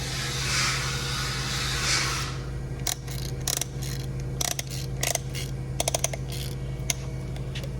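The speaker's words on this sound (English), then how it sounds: "I like using the ratchet because Kind of a little bit faster, easier." Ratchet wrench clicking in short bursts of quick clicks while tightening on a 1962 Ford Falcon engine being rebuilt, close up over a steady hiss and hum of background noise.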